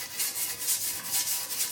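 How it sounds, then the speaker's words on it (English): A brush scrubs foaming cleaner over a dirt bike frame, giving a steady rhythmic rubbing hiss in quick back-and-forth strokes, close and fairly loud with no talk. "and then we just scrub it a little"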